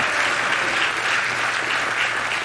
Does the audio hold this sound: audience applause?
yes